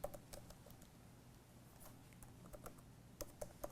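Quiet keyboard typing, a scattering of soft clicks with short pauses and a brief quicker flurry near the end, close by with no speech.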